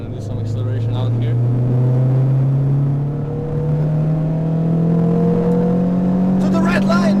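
A Renault Clio RS hot hatch accelerates hard, its engine note climbing steadily in pitch through a long pull in one gear, loud and close from inside the cabin, with faint voices near the end.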